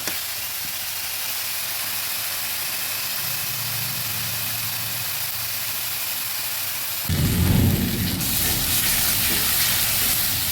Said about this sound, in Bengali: পেঁয়াজটা একটু বেশি দিয়েছি এবার কিছুক্ষণ ভেজে নেব